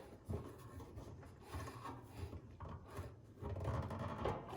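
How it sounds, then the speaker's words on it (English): A small screwdriver tightens a screw on a towel holder of a Blackstone storage and prep cart, making soft grinding, rubbing turns at close range with short pauses. "I'm gonna get my little small screwdriver and just tighten that real quick"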